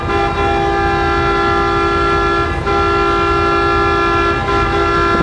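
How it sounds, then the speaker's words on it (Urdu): A vehicle horn blares outside a mosque door, one loud, steady, unbroken blast held for the whole stretch with no voices over it. "مسجد دروازے پر آ کر ہارن بجانے کا کیا مطلب"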